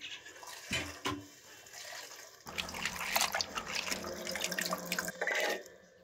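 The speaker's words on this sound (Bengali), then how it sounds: "শাকটাও আমি ধুয়ে নিচ্ছি।" Chopped Malabar spinach washed under running water in a sink: a tap gushes and trickles while the leaves are splashed and swished about, close and fairly loud in the second half.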